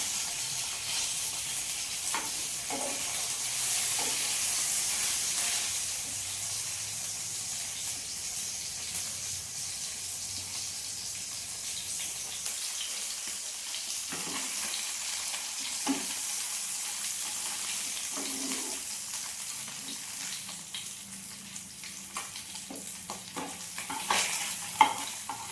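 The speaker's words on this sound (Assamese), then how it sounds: "মাছখিনি প্ৰথমতে ভাজি লওঁ।" Fish fried in hot oil for a chilli fish curry, giving a steady, close, fairly quiet sizzle with crackle and occasional stirring scrapes and clinks, no talking.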